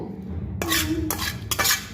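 Fried spices being stirred into mashed peas in a metal wok, a few scraping, clattering strokes of a spoon against the pan, close and distinct, with no speech.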